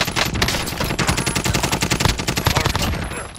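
Rapid automatic rifle fire in a military video game, a dense run of loud, close shots cracking in quick succession for several seconds with no break.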